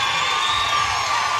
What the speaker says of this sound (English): As this Tiger Park crowd roars in support of their all-SEC caliber catcher.